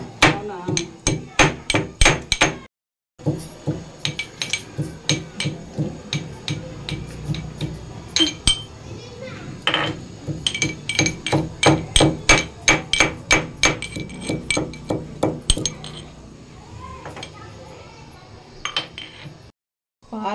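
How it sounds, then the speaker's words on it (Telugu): Food is pounded finely with a pestle in a mortar, making loud, close, rapid rhythmic thuds in long steady runs with a few short pauses. "దంచు బాగా మెత్తగా"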